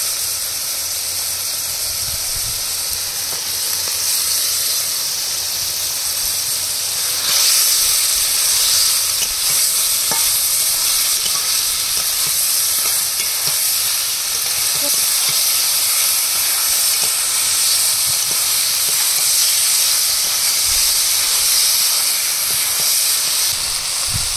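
Fried okra tipped into hot spice masala in a pan for a Bengali vegetarian dish, giving a steady, loud, broad sizzling hiss that lasts throughout with a slight surge partway, with no talking.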